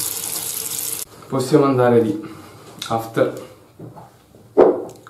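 Water draining and trickling from a wet shaving brush set down on a surface after lathering, a short running-water sound in the first second, followed by talking.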